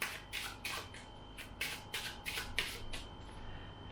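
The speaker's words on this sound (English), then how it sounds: "if you'd like to take those cards and shuffle them" A spectator shuffles a deck of playing cards by hand, a quick series of about nine crisp riffling bursts in close succession, near and fairly loud, with no talking.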